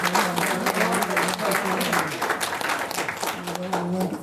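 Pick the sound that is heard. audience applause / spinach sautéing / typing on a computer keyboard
audience applause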